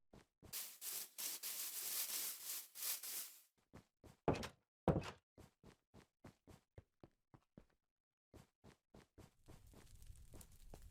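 A door opens in the Minecraft video game with a few quick wooden clicks and thunks. A rapid series of sharp taps follows, separated by brief silences, and the whole sequence is faint.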